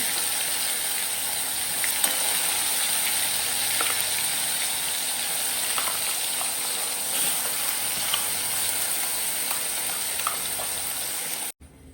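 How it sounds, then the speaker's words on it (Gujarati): Spice paste for a tuvar muthiya curry frying in a pan, giving a continuous, even sizzle with faint occasional crackles that stops abruptly near the end. "અને આ જે બનાવી છે પેસ્ટ મેં તમને આગળ બતાવી દીધું, અને ફ્રાય કરી દેવાનું છે."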